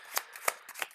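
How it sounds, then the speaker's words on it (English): Vulture cards from the Marvel Champions card game being shuffled into an encounter deck, four quick riffling bursts close up, with no talk. "I'm going to shuffle these Vulture cards into the encounter deck."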